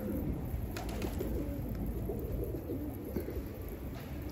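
Tumbler pigeons coo softly and repeatedly against a steady outdoor background hum, with a few faint chirps mixed in.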